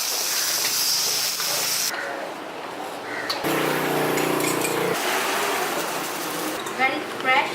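Prawns sizzle and hiss in a hot wok during a cooking class in George Town, Penang, Malaysia, a loud steady frying sizzle that surges and eases, with a voice talking over it.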